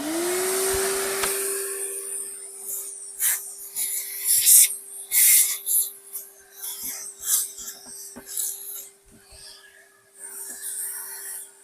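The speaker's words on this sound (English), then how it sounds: "Let's vac this out." A vacuum cleaner hose sucks dirt out of an old, dirty Hoover Junior U1104 upright, a steady whine under scraping and rattling bursts as the nozzle moves about, close and fairly loud.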